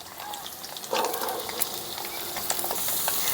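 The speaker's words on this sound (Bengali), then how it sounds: "এখন আমি এর মধ্যে দিয়ে দিচ্ছি কেটে রাখা পেঁপে আর সজনে ডাটা" Cut papaya and drumstick pieces tumble into a pan of frying potatoes, giving a soft clatter and stirring scrape over a quiet, steady sizzle.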